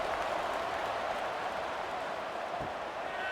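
Football stadium crowd at an AAF game, buzzing after a touchdown: a steady, dense roar of many voices fills the whole stretch at an even, sustained level, with no single voice standing out.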